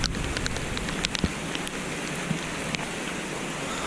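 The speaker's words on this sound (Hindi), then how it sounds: "बारिश बादल भी गरज रहे हैं" Steady rain falls on a narrow mountain path near Dehradun, a continuous close hiss of drops with a few sharper patters on nearby surfaces, alone without talk.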